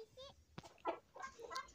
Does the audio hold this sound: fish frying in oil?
no